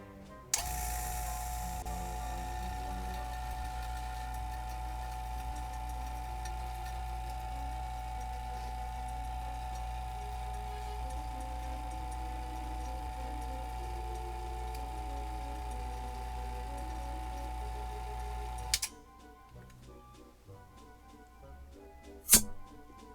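A single-stage 3 CFM vacuum pump pulling air from a chamber gives a steady mechanical hum with a constant whine for most of the clip, then cuts off, leaving a few quiet clicks and a sharp knock.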